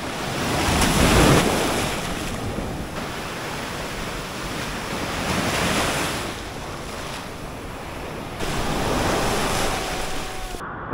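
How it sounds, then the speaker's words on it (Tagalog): Big ocean surf crashes steadily onto the beach at Liwliwa, Zambales, a loud continuous roar with swells building and breaking every few seconds, wind buffeting the microphone throughout. "Lalaki ng alon"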